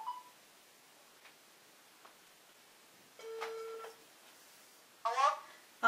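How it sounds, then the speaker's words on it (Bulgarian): A telephone call being dialed, with a few faint ticks followed by a sustained dial-type tone and a quick burst of keypad beeps, fairly quiet. "И така, звъним."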